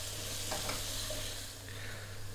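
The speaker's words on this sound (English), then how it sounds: "I want the onions to soften up before I add the ginger garlic" Onions frying over high heat in a hot pan, a steady close sizzle with a few soft stirring scrapes and no talking.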